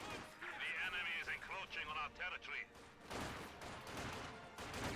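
MG42 machine gun in a wartime strategy video game battle, rattling out rapid bursts among dense, overlapping gunfire and explosions while a commentator talks over the action.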